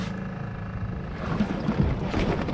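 A sailing boat moves along the coast close past creel marking buoys in light wind, with steady water wash and low wind rumble throughout, near and moderately loud, no voices.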